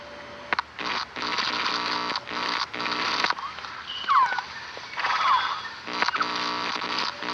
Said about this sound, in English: What is that? A quetzal? The phoenix bird.